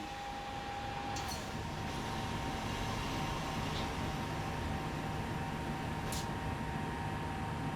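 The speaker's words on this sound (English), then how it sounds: "This train is ready to go. Push the indicated handle all the way forward to get moving." A high-speed train in the Train Sim World 2 video game on the LGV Méditerranée line starting to move, heard as a low, steady rumbling hum with a faint tonal whine and a few brief higher clicks.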